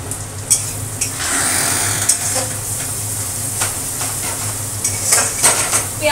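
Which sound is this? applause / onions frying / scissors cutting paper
onions frying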